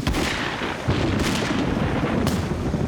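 Cartoon gunfire erupts in a swamp as soldiers open up: dense, continuous booming shots and blasts fill the whole stretch loudly, with sharp bursts standing out near the start, middle and end.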